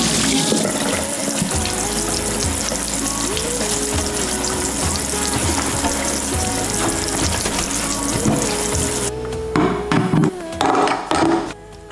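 A Scrub Daddy sponge is rinsed under a running kitchen tap, water pouring loudly and steadily with squelching splashes before the flow cuts and a few wet squeezes follow.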